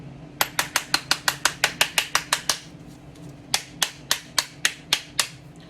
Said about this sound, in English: go ahead and take your spoon and give some taps around the outside